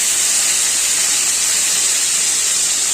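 Green chillies and peas sizzle in hot oil as a loud, steady, close hiss that holds unbroken throughout, with no voices.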